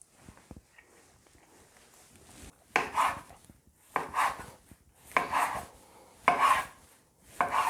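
A knife cuts through a rolled spinach pancake on a board, with about five distinct slicing strokes at a steady rhythm, close and fairly soft against a quiet background.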